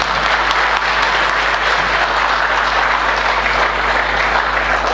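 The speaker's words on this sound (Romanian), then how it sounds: "Da, să-l aplaudem." An audience in a hall at a sports awards gala applauds a football coach, a dense, even wash of clapping that carries steadily from start to finish without a break.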